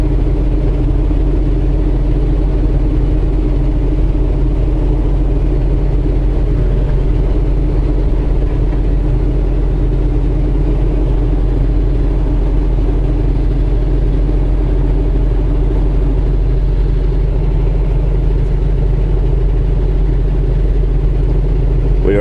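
A heavy truck's engine drones steadily in ninth gear at about 1500 RPM and 53 mph on cruise control near Pennsylvania's Allegheny Tunnel, a continuous loud low rumble with no breaks throughout.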